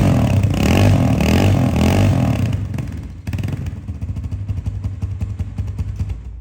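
Honda CBR 250cc carburettor motorcycle idling and revving, loud and close, with a sustained rev for about three seconds that drops back to a steady, throbbing idle.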